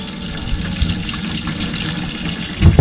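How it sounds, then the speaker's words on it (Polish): Water pours into a small fishing boat on a lake, a steady rushing gush that ends in a few louder splashes and knocks, with no talking. "Tutaj woda już się nalewa."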